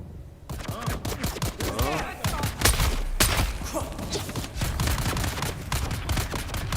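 Gunfire in the Dune: Awakening game rattles in dense, rapid bursts, with close machine-gun-like volleys and heavy thumps going almost nonstop and fairly loud, while a voice talks at times over the shooting.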